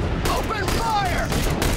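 Sustained gunfire from the video game The Bureau: XCOM Declassified, a dense continuous rattle of shots layered with game effects and a voice over the top, loud throughout the short burst.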